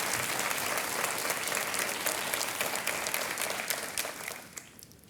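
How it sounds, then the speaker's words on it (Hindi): Studio audience applause on a Hindi television quiz show set, a dense sustained clapping that stays loud throughout and fades slightly in the final second, heard alone without talk. "एक बार आपका तालियों के साथ अभिनंदन करते हैं।"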